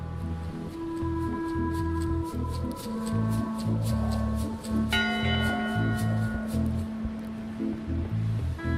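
A single bell rings in the Monkey Island adventure game, its tone ringing out over looping background music and soft sea-like ambience, with no talking.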